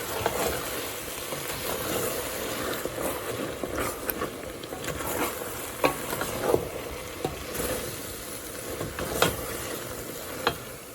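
Okra bhindi salan stirred in a pan, a spoon scraping and turning the thick mixture with repeated soft knocks over a steady low sizzle, close and fairly loud without talk.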